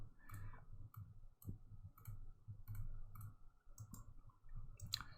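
Crisp computer mouse clicks tap out at an irregular, fairly steady pace during alt-click-and-drag editing work, close and quiet with a low hum underneath and no talk.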